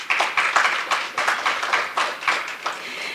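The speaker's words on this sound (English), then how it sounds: "Once again, a round of applause." A crowd at a Caribbean climate event breaks into applause, a brisk run of overlapping claps with soft rhythmic pulses, fairly close and alone.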